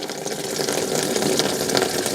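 Engine coolant pours out of a BMW N62 V8 in a steady, continuous gush, a close splashing trickle with no pauses.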